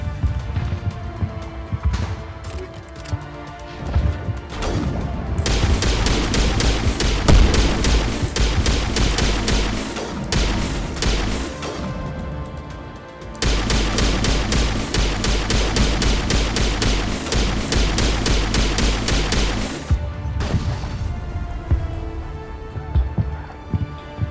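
Weapon fire in Mass Effect 1: two long, loud, sustained volleys of rapid shots, each lasting several seconds, separated by a brief lull, with quieter mechanical sounds before and after.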